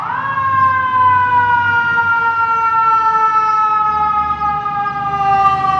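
FDNY Engine 11 and Ladder 8 heading out in Manhattan, with a loud, steady wailing fire engine siren that holds close and continuous throughout, over street rumble.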